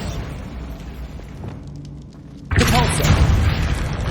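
A Bombarda spell explosion in Hogwarts Legacy: after a quieter stretch, a sudden loud blast erupts and leaves a sustained rumbling roar until the end.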